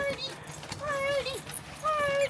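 Excited dogs whimpering and whining in greeting indoors, high wavering cries rising and falling in several bursts close by, with a voice talking over them.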